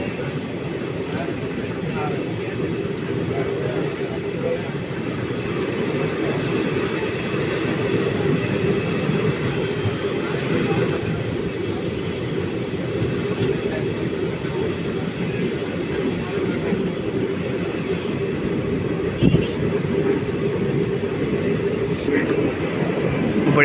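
Circar Express passenger train running between Kakinada and Vijayawada, a continuous loud rumble and rattle of wheels and carriages on a long curve, steady throughout with a brief knock near the end.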